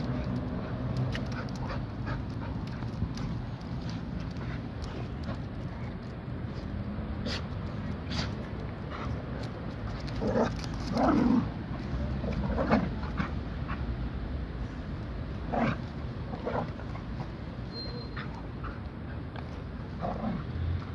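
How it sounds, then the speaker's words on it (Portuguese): A lost puppy in a town square pants and whimpers softly, with faint short whines and breathy sounds over steady outdoor background noise throughout. "Cachorro perdido na praça, que pena, bem bonito ele, bem tranquilo. E é um filhote."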